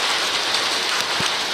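Steady rain falls outdoors in a continuous, close, even hiss with no voices.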